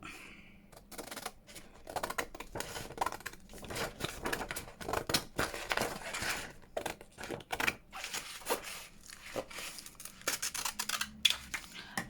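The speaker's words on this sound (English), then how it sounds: "let's get the big chumpy scissors out" Large scissors snipping through paper for a junk journal, a rapid irregular run of close crisp cuts and blade clicks with brief pauses, near and fairly quiet, without speech.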